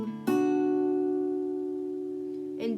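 Electric guitar striking two strings together for a song intro, one clear chord ringing out and slowly fading over a couple of seconds, close, followed by the start of another pluck.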